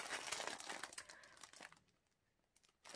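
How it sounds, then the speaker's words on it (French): Plastic wrapping crinkles loudly and continuously while a DIY digital art kit is unboxed, close up, then the crackling dies away to near silence before a brief final rustle. "il est dans un papier plastique qui fait beaucoup de bruit"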